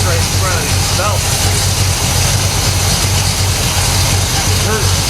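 A Pontiac LeMans with a 455 engine idles loud and close, a steady low rumble with a slightly uneven pulse, while someone speaks briefly over it.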